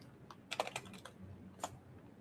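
Keystrokes on a computer keyboard: a handful of sharp, uneven clicks in a quick burst, then a short pause and one more tap, fairly close and alone with no talking.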